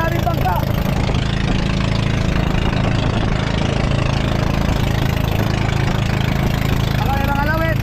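Motorboat engines from many bangka fishing boats drone steadily throughout, a continuous close rumble with voices talking faintly underneath.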